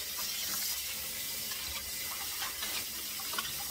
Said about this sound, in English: just go up and down, just like you're washing out some clothes in your hand sink